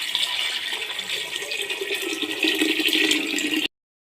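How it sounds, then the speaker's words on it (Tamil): Eight tumblers of water pour into a pot for mushroom biryani with a loud, close, continuous gushing splash that stops abruptly after a few seconds. "இப்போது நம்ம 8 டம்ளர் தண்ணியை ஆட் பண்ணிக்கலாம்."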